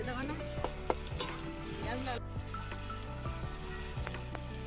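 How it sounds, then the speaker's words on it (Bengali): Onions dropped into very hot oil in a home kitchen pan, frying with a steady sizzle while a utensil stirs and scrapes against the metal in irregular knocks, close up, with no talking. "তেলটা এতই গরম হয়ে গেছিল যে পেঁয়াজটা সঙ্গে সঙ্গে লাল হয়ে গেছে"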